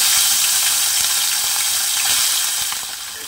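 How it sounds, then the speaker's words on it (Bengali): Tangra fish, rubbed with salt and turmeric, fry in hot mustard oil, making a loud, steady, close sizzle that holds evenly and softens slightly at the end. "মাছগুলো এখানে ভাজা হয়ে গেছে"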